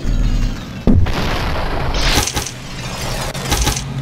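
A loud shotgun blast in the video game Superhot, a single booming shot with a heavy low-end thump, followed by more bursts over a dense, continuous game backdrop.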